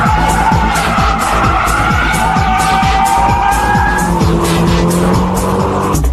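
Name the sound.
Nissan S14 Silvia braking drift, tires skidding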